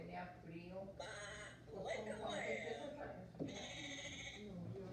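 Several sheep bleat one after another, wavering calls close by over a soft background.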